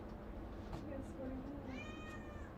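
A house cat meowing indoors, a short drawn-out chirpy meow near the end heard close but fairly soft, with a person talking to it in the background.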